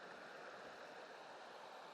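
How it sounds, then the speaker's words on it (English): Little Granite Creek in the Gros Ventre Wilderness, Bridger National Forest, running full of water: a steady, even rushing babble, faint and continuous, with no voices. "This is Little Granite Creek here. Quite a lot of water flowing."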